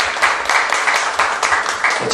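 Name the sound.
audience applause at debate forum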